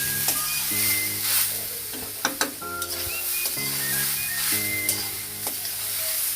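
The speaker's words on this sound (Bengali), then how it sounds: "নারিকেলটা ভালো করে ভাজতে হবে, পানি থাকলে এটা হবে না।" Grated coconut fries in a wok for jhuri pitha while being stirred, a close, steady sizzle broken by scraping strokes of the spatula and a few sharp clinks against the pan, with a faint tonal hum underneath.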